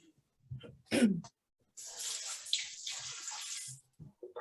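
Leftover liquid from a can is poured into a pot of rice: a short knock of the can, then a soft continuous splashing pour lasting a couple of seconds before stopping.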